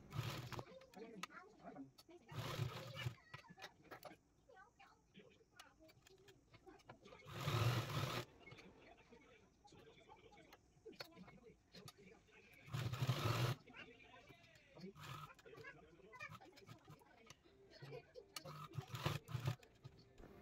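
A sewing machine double-stitches seams on a gown, running in a few short, loud bursts spread apart, with quiet handling sounds and a voice talking between the runs.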